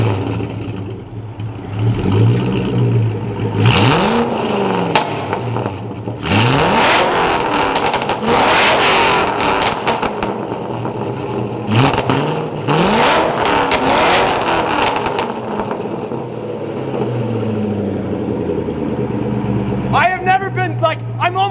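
Straight-piped Ford GT engine revving hard inside a parking garage, repeated loud rising-and-falling revs echoing off concrete, with bursts of excited voices between and after the pulls.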